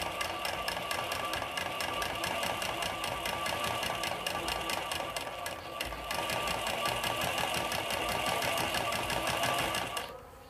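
A sewing machine runs a fast, even rattle of stitches at stitch length 5 while sewing pleats into fabric, nearby and continuous, dipping briefly near the middle before stopping abruptly at the end.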